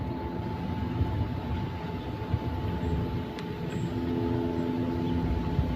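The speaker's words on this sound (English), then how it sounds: "Helicopters." Helicopters overhead make a continuous low rumbling drone with a faint steady hum, distant and moderately quiet, with no voices.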